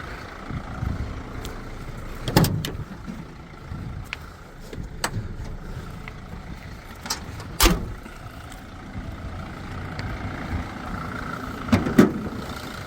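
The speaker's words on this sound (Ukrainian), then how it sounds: "покажемо вам під капотом, як працює двигун" A Mercedes van engine idles under its open hood with a steady, moderate mechanical hum, broken by a few sharp clicks and knocks close by.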